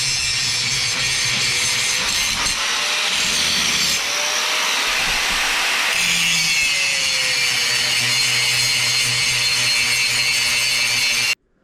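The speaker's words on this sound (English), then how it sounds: "So hopefully we can do that with the cutoff wheel and not be too big of an issue." An angle grinder with a cutoff wheel slices through steel plate while modifying a CAT excavator bucket, a loud, continuous high-pitched grinding whine holding steady for about eleven seconds before stopping abruptly.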